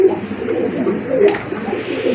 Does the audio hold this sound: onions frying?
no